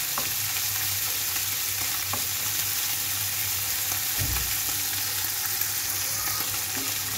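Small fish fry in hot oil with a steady, dense sizzle, close and constant, with a brief clatter of a utensil partway through.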